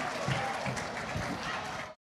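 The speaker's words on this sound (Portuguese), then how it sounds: "Uma salva de palmas bem forte para ela, gente." Audience of schoolchildren clapping for a visiting speaker at a school in Campinas, a steady burst of applause with some crowd noise that cuts off abruptly near the end.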